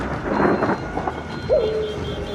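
A thunderstorm rumbles with rain and wind, a loud, broad roll of thunder over a steady wash of rain, followed by a brief rising whistle-like tone that trails off.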